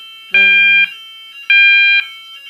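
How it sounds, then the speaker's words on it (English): A French-style fire alarm sounds loud and close, giving two long electronic tones about half a second each with a short gap between them, and a faint third tone beginning right at the end. "Fire alarm, it goes off."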